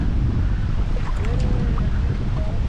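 Strong wind gusting by a river on a cold fall day, a steady loud roar buffeting the microphone throughout with no break.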